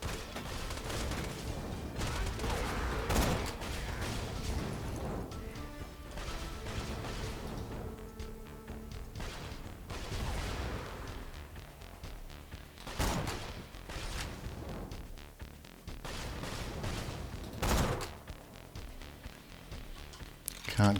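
Sniper fire in Borderlands 2: a few sharp, widely spaced gunshots crack over a busy bed of game noise and effects, with sporadic talk in between.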